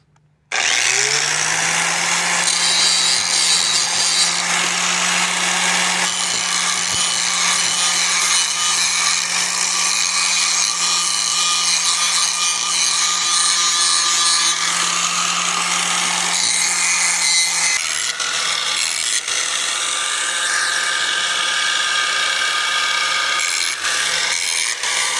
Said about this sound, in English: I'm going to grind this edge to make it look like this